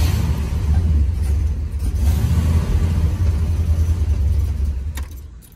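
A 1971 Ford LTD Convertible engine idling nearby in need of a tune-up, a steady low rumble that holds for several seconds before tapering off.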